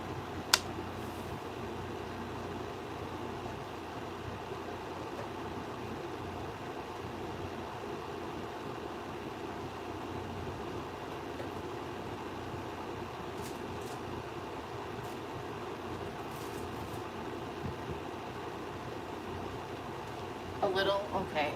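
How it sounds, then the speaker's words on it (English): A room air conditioner runs with a steady, even hum and whoosh, constant throughout and fairly quiet, with a few faint clicks near the end. "can you hear my air conditioner pretty bad, Shelby?"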